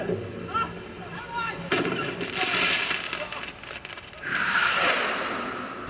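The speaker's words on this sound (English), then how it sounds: "a flaming car exhaust lighting a firework" Bursts of crackling and whooshing blasts with hissing bangs, loud and close, as a flaming car exhaust sets off a firework over a rough engine rumble.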